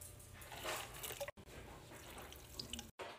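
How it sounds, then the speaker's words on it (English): Warm water runs from a tap or jug into bowls of dog kibble, a steady close splashing stream broken by two brief pauses. "Warm water."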